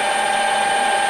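Steady high-pitched whine of a drill back drilling metal in very small steps, a slow machining pass, continuous and close with no pauses or talk.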